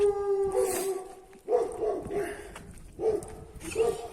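Dogs bark and howl in several bursts, with a sustained howling tone running through the first part and sharp yelps recurring, close and fairly loud.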